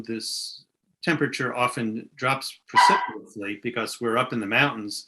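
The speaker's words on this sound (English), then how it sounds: "I'm sorry, I've locked the puppies out." Puppies bark outside a closed door of a mountain home, short yips and barks set mostly beneath someone talking steadily through the whole stretch.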